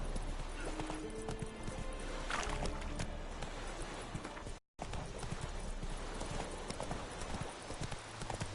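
Horse hooves gallop in The Witcher 3 in a steady, fast clip-clop rhythm that carries on throughout, with a brief dropout near the middle and a faint neigh in the mix.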